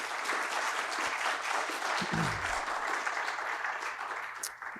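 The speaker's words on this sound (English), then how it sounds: "Let's give a big round of applause" Welcoming applause from the crowd at the Burbank Startup Pitch Fest, moderately loud continuous clapping with a brief low tonal sound partway through, fading slightly at the end.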